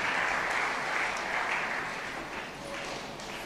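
Congregation applauding in church, a dense, steady wash of clapping from many hands that fades slightly toward the end, with no voices standing out.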